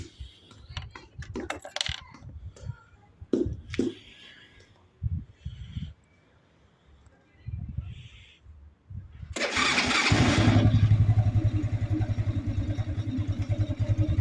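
A Cub-style motorcycle with a cold engine and freshly changed 10W-40 oil is started after some light clicking and handling noises. It catches with a sudden burst and then runs with a steady, close, rapid putter.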